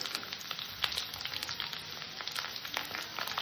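Radish, carrot and cauliflower stalks sautéing in a pan give a steady, close sizzle and crackle, with frequent sharp scraping taps from stirring and no voices.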